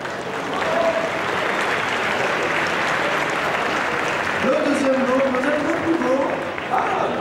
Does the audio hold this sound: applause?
yes